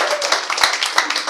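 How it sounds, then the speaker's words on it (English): An audience claps in a brief burst of applause, with quick, uneven hand claps close by. "Yes, you can clap for her, please. Encourage her."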